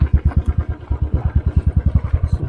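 A motorcycle on a mountain road in North Sikkim thumps along with a rapid, rhythmic engine beat, loud and close, each pulse distinct as it rides.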